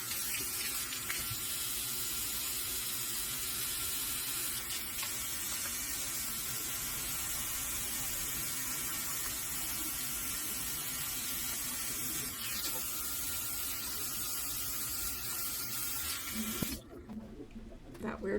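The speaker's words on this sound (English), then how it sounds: "that sound you hear in the background is just the dishwasher." A dishwasher runs in the background with a steady watery spray and hiss, continuous for most of the stretch before cutting off near the end.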